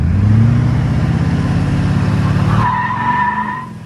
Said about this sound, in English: maybe a higher pitched turbo noise